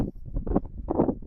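Gusty wind buffeting the microphone on a snowy golf course, low rumbling bursts that swell and fade over a second or so, close and fairly loud.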